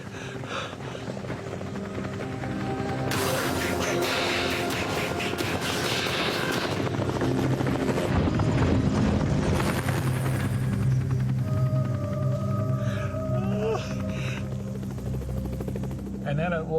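A helicopter's rotor thumps steadily and grows louder as it nears during an off-road emergency, with a voice talking over the heavy drone.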